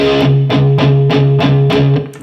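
Palm-muted distorted electric guitar riff, chugging in a steady rhythm of four evenly spaced accented hits with ringing low notes, played alone at close range.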